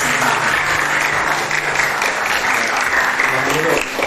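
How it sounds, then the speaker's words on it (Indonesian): Audience applause at an Indonesian teacher-training event, a steady dense wash of clapping throughout with some voices mixed in. "Tepuk tangan dong buat"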